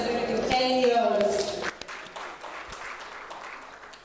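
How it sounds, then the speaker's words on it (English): Audience applause at a business conclave marking someone's ten-year milestone, a dense burst of clapping with voices and tonal sound over it early, then thinning into steadier clapping. "A huge round of applause for Hans for celebrating 10 years."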